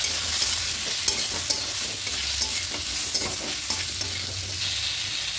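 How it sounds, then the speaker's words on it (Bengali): Vegetables for a vegetarian red amaranth ghonto fry in a pan with ground coriander, cumin, turmeric and chili powder, a steady loud sizzle broken by regular scraping strokes of the stirring spoon, with no talking. "ধনিয়া গুঁড়ো, জিরে গুঁড়ো, হলুদ গুঁড়ো, লঙ্কা গুঁড়ো দিয়ে খুব ভালো করে মিশিয়ে নেব।"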